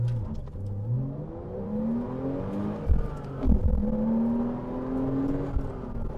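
A new car accelerates from nearly a standstill, its engine note rising steadily in pitch through a gear change, heard from inside the cabin at moderate volume.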